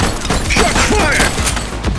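Gunfire in The Precinct during a police chase: a dense, loud volley of shots and impacts packed with crackling hits, with faint sweeping tones running underneath.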